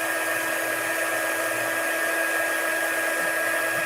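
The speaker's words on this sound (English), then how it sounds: "I'm using the heat tool" A steady, high-pitched electric whine with a rushing airflow hiss, constant and close throughout, from a heat tool blowing hot air onto a handmade card.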